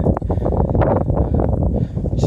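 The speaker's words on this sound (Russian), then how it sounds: "Пардон за ветер, да он не мой." Heavy wind rumbles against the microphone in low, buffeting gusts, loud and close, muddying the background throughout, outdoors while digging for coins.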